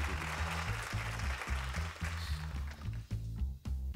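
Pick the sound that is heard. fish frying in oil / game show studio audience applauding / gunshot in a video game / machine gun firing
game show studio audience applauding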